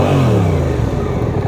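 A Suzuki 8S street motorcycle's exhaust revs, a brief, loud, steady low rumble held close for a moment, with no talk.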